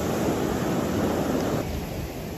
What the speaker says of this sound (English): Some big waves coming in as well.